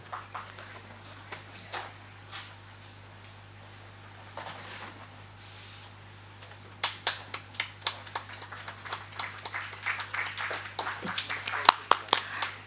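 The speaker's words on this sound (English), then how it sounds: "can we have a louder round of applause" Scattered hand claps from a school debate audience, sparse and quiet at first, then picking up into a thin round of applause over the last several seconds, with faint background voices.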